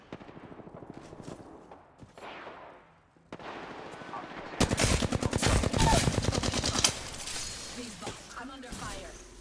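Rapid gunfire in the video game Remnant 2 crackles loudly in dense bursts of repeated shots, following quieter stretches, with a voice speaking over parts of the action.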